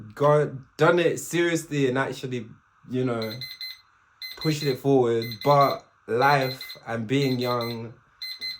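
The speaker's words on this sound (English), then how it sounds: "that was the alarm going off" A digital alarm beeps steadily in the background, a thin repeating electronic tone running under a person talking throughout.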